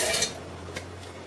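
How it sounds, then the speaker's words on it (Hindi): Dry fruits clatter into a mixer jar, a bright burst of hard pieces hitting metal followed by a few lighter clinks, close and loud with no talking. "मिक्सर जार में ये ड्राई फ्रूट्स हमने लिया है"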